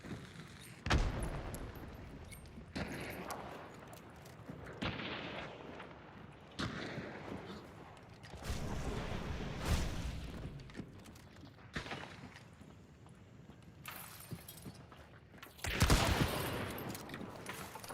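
Gunfire in the video game Escape from Tarkov, repeated heavy shots and bursts at irregular intervals, some loud and close, others more distant, with no one talking.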